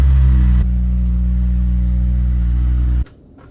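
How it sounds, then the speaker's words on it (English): A Nissan 240SX with an SR20 engine roars at a loud, steady high rev. It drops quickly after a short first burst, holds a strong droning hum for a few seconds, then cuts off abruptly to near silence. "Go ahead and give us some revs, dude."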